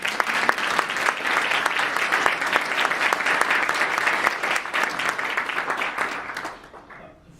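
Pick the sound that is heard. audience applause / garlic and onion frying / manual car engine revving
audience applause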